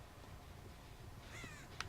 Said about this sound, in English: Still don't understand why there are so many birds in this hospital.